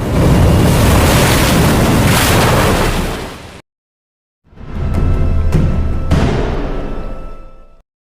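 Stormy weather at sea in a film scene: a roaring rush of wind, rain and crashing waves, which cuts to silence briefly and then resumes with heavy surging water and a few sharp impacts.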